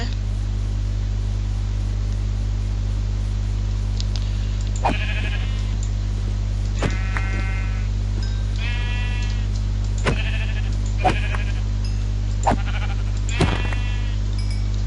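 Sheep in the Minecraft video game give a series of short, wavering bleats, about six spaced several seconds apart, over a constant low hum.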